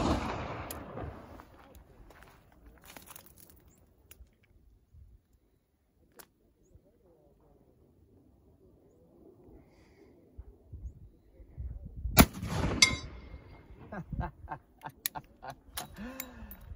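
An 1866 Peabody rifle in .50 rimfire fires at a white plate on a hilltop outdoors: a single loud, sharp report lands partway through, followed by a brief rolling echo and some light handling noise in an otherwise quiet setting.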